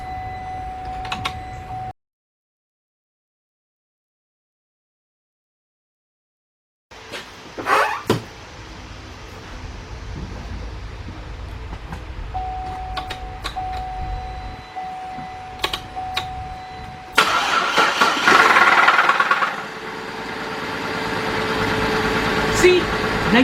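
A 2005 Cadillac CTS with a 3.6 engine hums as its fuel pump cycles briefly before a stretch of silence. Clicks follow, then the engine starts and idles with a rising rough roar near the end.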